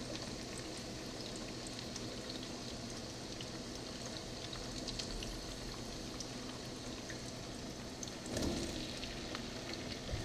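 Vegetables sauteing in plenty of oil in a pan for egg rolls, a steady close sizzle and bubbling hiss that swells briefly louder near the end, with no talking.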